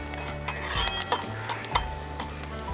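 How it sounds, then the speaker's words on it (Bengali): Ginger, green chili and curry leaves fry in a pan, with a soft sizzle under repeated spatula scrapes and clinks of a metal utensil against the pan. "আদা, কাঁচা লঙ্কা আর কারি পাতা খুব সুন্দর করে ভেজে নিয়েছি"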